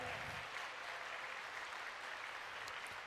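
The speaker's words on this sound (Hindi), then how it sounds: "एक बार तालियों द्वारा अभिनंदन" An audience at a ceremony in Tankara applauds to welcome the President of India, a steady, dense clapping that runs throughout and sounds somewhat distant.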